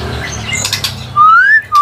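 A songbird at a small bird kiosk gives a loud, close, rising whistled chirp that ends abruptly, followed by another brief note, over faint background murmur.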